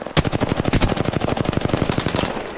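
Rapid, steady automatic gunfire from a machine gun in a shooter game, one loud continuous burst of evenly spaced shots lasting a couple of seconds, no talking.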